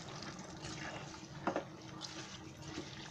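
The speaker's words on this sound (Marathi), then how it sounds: "असंच मस्त हलवून घ्यायचं आणि गरम पाणी ओतते." Hot water is poured into a kadhai of washed rice for prawn rice pulav, giving a steady wet pouring and splashing with one brief louder splash midway. It is close, moderately loud and free of speech.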